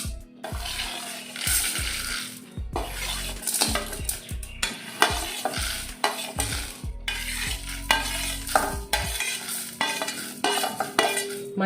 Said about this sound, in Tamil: நல்லா எண்ணெயே இல்லாமல் ஃப்ரை பண்ண வேண்டியது தான்.